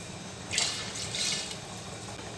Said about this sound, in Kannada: ಈಗ ಇದಕ್ಕೆ ಇನ್ನು ಸ್ವಲ್ಪ ನೀರು ಸೇರಿಸ್ತೀನಿ